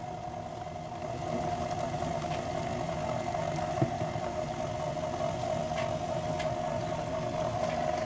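An electric mixer whirs steadily through mashed potatoes and milk for pâté chinois, a constant mid-pitched motor drone with faint bowl scraping, close and even, slightly louder after the first second.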